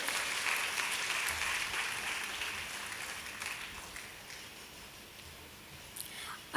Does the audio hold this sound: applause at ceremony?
yes